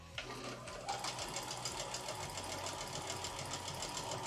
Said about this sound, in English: Let's just sew down the row here.